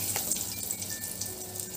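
Black cumin seeds and two green chillies sizzle in leftover fish-frying oil in a kadai for a Bengali hilsa curry, giving a brief, steady crackling hiss up close with no talking.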